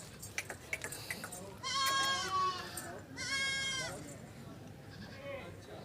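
Goats bleat loudly at a busy livestock market, two long wavering calls close by with a fainter one later, over crowd noise and people talking.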